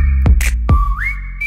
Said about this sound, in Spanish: Esta canción empieza con un silbido, un sonido que comúnmente es utilizado para llamar la atención de gente.